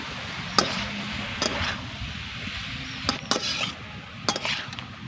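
A spoon stirring and mixing an amra (hog plum) pickle with salt and turmeric in a bowl, giving a few faint, scattered scrapes and clicks over a quiet background.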